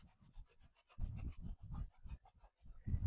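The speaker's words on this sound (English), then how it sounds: "I'm going to take some of the Fusion's clear wax, and I'm just going to kind of rub some of that off" Clear Fusion furniture wax being rubbed off a piece of furniture, a close, steady series of rasping rubbing strokes in uneven bursts, with no talking.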